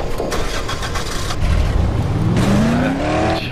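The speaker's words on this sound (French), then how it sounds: "la voiture qui met un peu de temps à démarrer, juste pour vous mettre la pression" A car engine in the Dead Island video game cranks and struggles to start, then catches and revs up with a rising whine, loud and continuous with no talk.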